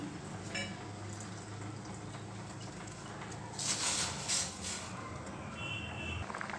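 Rice simmers in a covered pot of boiling water for ragi mudda, a soft steady bubbling hiss close by, with a few brighter splashes midway and no speech.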